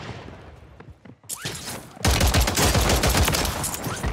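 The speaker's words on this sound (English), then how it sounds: "Why is this pistol so good?" Pistol and other gunfire in the Warzone video game, scattered shots at first, then after a short gap a dense, loud stream of rapid cracking fire up close.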